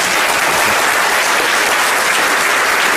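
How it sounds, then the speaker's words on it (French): Dense, steady audience applause at the close of a French tech talk on Hibernate OGM, loud and continuous throughout with no speech over it. "Merci, on applaudit."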